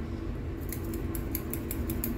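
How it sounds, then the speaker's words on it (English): Scissors snip beard hairs near the sideburns in a quick run of crisp, close cuts, about eight clicks in steady rhythm over a low background hum. "Take your scissors and just go in like that and trim them off."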